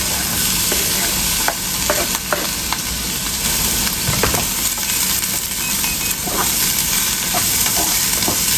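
Water spinach stir-frying in a hot pan, a loud continuous sizzle and hiss broken by frequent metallic clinks and scrapes of a spatula stirring.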